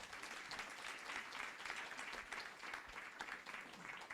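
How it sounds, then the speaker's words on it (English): Audience applause for a youth panel at a Guru Poornima gathering, a steady, fairly faint wash of clapping held evenly throughout without pause. "Can we give a round of heartfelt applause for this wonderful team?"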